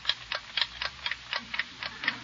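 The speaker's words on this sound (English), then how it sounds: "You can't tell whether it's the watch ticking or somebody knocking on the door." A noisy wristwatch ticks steadily, about four crisp ticks per second, close up and alone with no voices.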